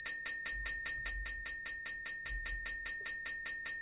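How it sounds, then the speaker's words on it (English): Service bell in a cozy farming video game rung over and over in a fast, even train of bright metallic dings, each sharp and clear, with no talk. "Oh my gosh, I just saw there's a service bell."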